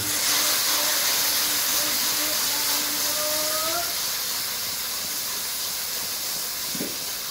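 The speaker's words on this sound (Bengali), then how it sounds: "হলুদ গুঁড়োটা দেওয়ার পরে বেশ ভালো করে কষিয়ে নেব" Tomato with turmeric powder sizzles in a pan for a sea fish curry, a steady loud hiss of frying close up with a faint stirring scrape near the end.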